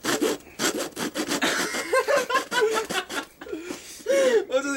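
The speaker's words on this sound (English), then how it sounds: "It's my turn to just saw it like this." A hand saw cuts through a stack of books in quick, rhythmic rasping strokes close by, while people talk and laugh over the sawing.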